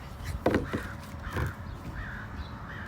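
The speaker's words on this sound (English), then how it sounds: "We got a crow bro with us." A crow caws outdoors beside a food truck in Oliver, British Columbia, giving about five harsh calls in an irregular series over a low rumble of background noise.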